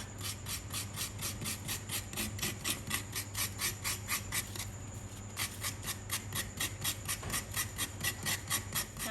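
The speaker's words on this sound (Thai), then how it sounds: "ให้เรานำมะพร้าวทึนทึกมาขูดเป็นเส้นๆนะคะ" Semi-mature coconut being grated into shreds, a steady rhythmic rasping of quick scrapes with a brief pause midway, close and continuous with no talk.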